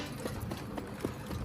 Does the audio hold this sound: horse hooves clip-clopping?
yes